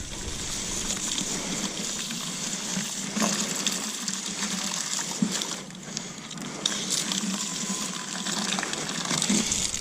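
Hose water spraying steadily over a big turbo Volvo during a rinse before paint correction, a continuous rushing hiss with small bursts and shifts as the spray moves.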